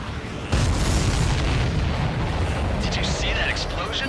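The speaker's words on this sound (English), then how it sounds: "Did you see that explosion? Looks like that's one of them down." An enemy supply ship explodes in the video game Ace Combat 7, a sudden heavy boom that rolls into a sustained loud roar, with a radio voice speaking over the tail.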